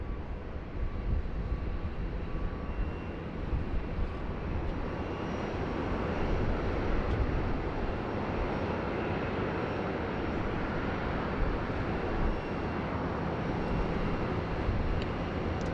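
Jetstar flight 411 landing on runway 07 at Sydney Airport, a steady, broad roar of jet engines that swells slightly midway and persists throughout.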